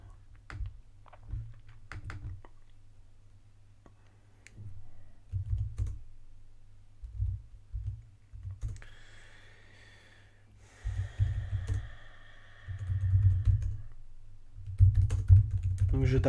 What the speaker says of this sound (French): Donc je tape des mots-clés.